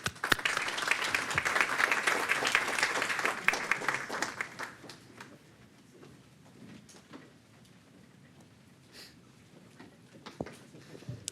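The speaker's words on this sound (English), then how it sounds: "join me in a round of applause and congratulating these schools" A crowd at a state board of education meeting applauds loudly for several seconds, then the clapping fades to scattered claps and room noise.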